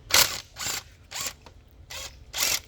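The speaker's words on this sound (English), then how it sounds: "So I use a socket." A ratchet turns an 11 mm socket to remove gas line bolts on a 2012–2015 BMW 335i engine, a series of five close clicking ratchet sweeps with short gaps between them.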